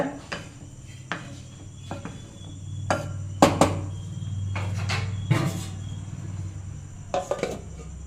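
A metal plate set over a cooking pot of semolina as a lid gives a few sharp clanks and clinks spread over several seconds, with quieter rattles and a faint steady background hum.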